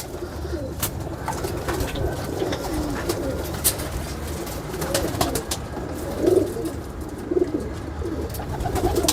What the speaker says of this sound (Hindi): ये वही कबूतर हैं जो पुराने कबूतर होते थे